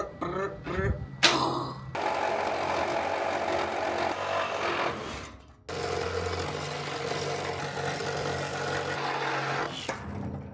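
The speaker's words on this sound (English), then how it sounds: "I think a metal sawzall blade through here." A reciprocating saw fitted with a metal-cutting blade buzzes through material on a container tiny home add-on, two long harsh cutting bursts separated by a short pause, preceded by brief clatter and some talk.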